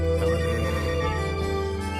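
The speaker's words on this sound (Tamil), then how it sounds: "சீனுக்கிட்ட இருந்து போன் வருது" An incoming call rings on a telephone in a Tamil TV serial scene, a loud continuous tonal ring filling the whole short stretch with no voices over it.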